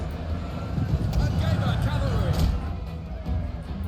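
Cavalry horses galloping during a Pergamon campaign battle in a strategy video game, a rumbling mass of hoofbeats amid battlefield din, with voices calling out over it.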